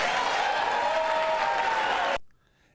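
Audience at a political speech applauding and cheering after a veto pledge, a dense continuous roar of clapping that cuts off abruptly near the end.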